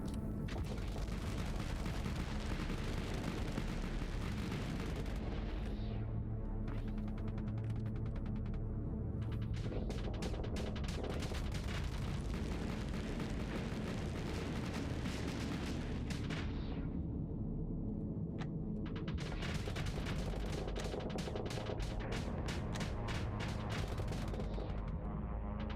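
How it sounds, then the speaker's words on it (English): Starsector ship weapons firing nonstop in a space battle, a dense, loud barrage of rapid cannon and gun bursts with heavy booming impacts, running throughout with brief lulls and no speech. "Just shoot him till he dies from it."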